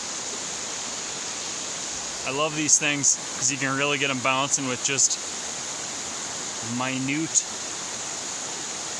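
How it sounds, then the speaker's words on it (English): A waterfall on the west fork of the Wallowa River in the Wallowa Range, heard from a bridge, gives a steady rushing roar that continues beneath someone speaking. "I haven't seen a waterfall this good since the Sierras."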